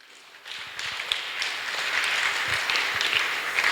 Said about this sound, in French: On acclame le Seigneur Jésus